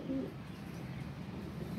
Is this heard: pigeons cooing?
yes